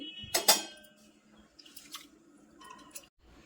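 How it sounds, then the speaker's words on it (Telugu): Flattened rice (poha) being washed in a bowl of water for a bun dosa batter, with a couple of soft splashes and drips followed by quieter sloshing and a light clink against the bowl. "అరకప్పు అటుకులు వేసుకుని ఒకటి రెండు సార్లు చక్కగా కడగాలండి"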